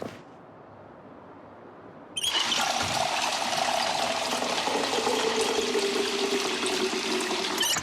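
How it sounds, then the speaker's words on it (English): Water being filled up in Project Zomboid: after a quiet start, a loud rushing pour begins abruptly and runs steadily to the end. "we're going to fill up on our water really quick"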